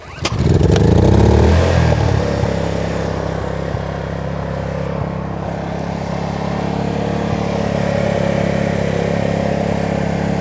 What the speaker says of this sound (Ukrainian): запускаємо даємо навантаження в півтора кВт і е, засікаємо час